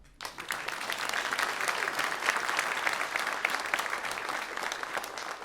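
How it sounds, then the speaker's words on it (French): Steady, dense applause from a convention audience at a Toulouse Game Show actor panel fills the whole stretch, loud and continuous without pause. "On peut les applaudir."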